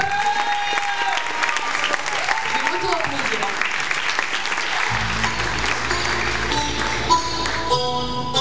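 Applause from a crowd fills the stretch, steady and dense throughout, with music or tonal sounds layered above and a low hum entering partway through.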